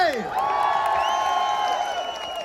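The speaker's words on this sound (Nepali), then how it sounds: "तपाईहरुको लागि जोरदार ताली" Crowd noise at a Nepali community festival in Dubai, a dense mass of cheering, whoops and scattered clapping that stays loud and steady throughout, with voices shouting over it.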